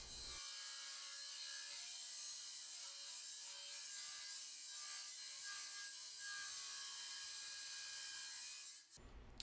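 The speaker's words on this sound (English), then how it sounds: "On this grinder, instead of a hard abrasive disc, I'm using a flap wheel." Angle grinder fitted with a flap wheel sanding a weld joint on a steel propane tank, a steady loud high-pitched whir with abrasive rasping that runs continuously before cutting off at the end.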